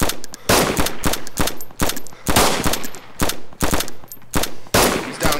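Rapid bursts of M4 rifle fire in a video game, loud and close, crackling in quick repeated volleys with short gaps between them.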